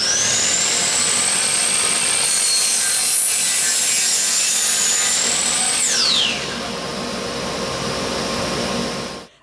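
A miter saw cuts through wood with a loud, steady whine that rises and then drops away after about six seconds, while a Jet 1.5 HP cyclone dust collector keeps roaring underneath and continues alone.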